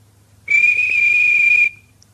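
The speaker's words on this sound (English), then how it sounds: "and blew his whistle." A railway guard's single sharp, shrill whistle blast held steady for over a second, loud and close, with a faint low hum underneath.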